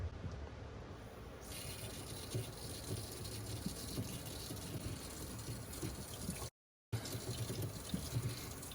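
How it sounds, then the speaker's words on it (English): Water flows steadily into a Nu Aqua Platinum Series drinking water system as the feed adapter valve is opened halfway, a continuous close rush of liquid with a brief dropout near the end. "You can see water flowing into the system."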